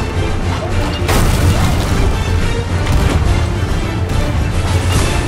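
Heavy cannonball impacts and crashing hull damage during a naval battle in the Sea of Thieves pirate game, a loud dense roar of booms and debris with a sharp strike near the start and another later, no talk over it.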